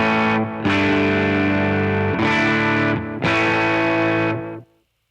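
Electric guitar through distortion and delay pedals plays three sustained chords with echoing repeats, loud and close, then cuts off abruptly.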